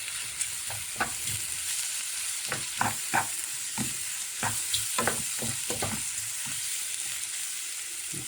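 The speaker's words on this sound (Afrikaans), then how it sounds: "Dan ons hom roer." A chicken and mushroom pan sauce, sprinkled with powdered seasoning, is stirred in a frying pan. A utensil scrapes and taps in irregular bursts over a soft, steady sizzle nearby.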